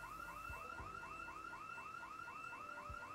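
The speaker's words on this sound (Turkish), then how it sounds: "Nerenin alarmı çaldı bu arada?" A car alarm blares in the zombie survival game Project Zomboid, a steady repeating electronic whoop cycling evenly at a moderate distance, with faint thuds underneath.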